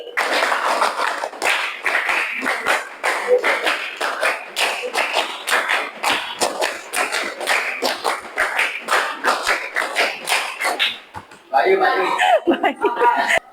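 A classroom of children claps out a rhythmic pattern, a fast run of sharp, close, sustained hand claps with scattered giggles and voices between them.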